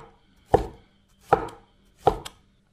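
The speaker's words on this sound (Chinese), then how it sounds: "改刀切成小块就可以" Three sharp knife chops through tomato on a cutting board, evenly spaced about a second apart, close and distinct with quiet between strikes.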